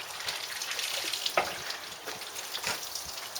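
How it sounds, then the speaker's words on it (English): Water is poured by hand over a motorcycle to rinse it after cleaning, a soft splashing and trickling close by with a few brief splashes, fairly quiet and with no talk. "Just flick a pour of water over it"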